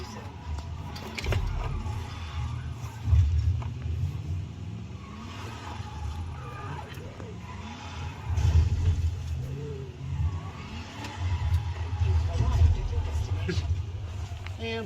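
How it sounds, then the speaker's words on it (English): An engine revs and surges in a drift car in the Forza racing game, rising and falling in several pulses with tire noise throughout, while a person talks over it. "Obviously, an appropriate drift car here."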